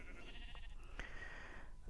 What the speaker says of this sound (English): Come on, sheep. Come here.